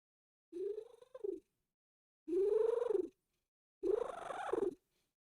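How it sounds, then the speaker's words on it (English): A hungry house cat gives three separate drawn-out, tonal vocal sounds with short pauses between them, close and clear with no other noise around them. "I think my cat's hungry."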